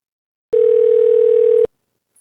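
A telephone dial tone plays as a call is placed: a single steady, loud electronic tone lasting about one second, starting and stopping abruptly in otherwise near silence.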